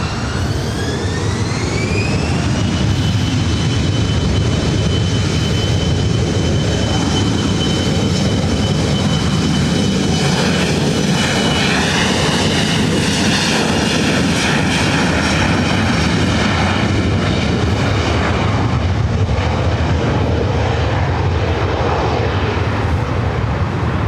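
A jet airliner takes off from runway 24 right at LAX, its engine roar loud and steady throughout, with a rising whine that bends and sweeps as the aircraft accelerates and climbs away.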